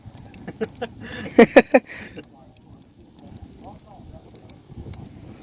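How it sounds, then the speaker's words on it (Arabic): A wood fire burns under four fish being grilled outdoors, giving a soft, steady crackle with a short burst of sharper pops in the middle, close to the mic with faint background noise. "يلا شقل النار تحرق"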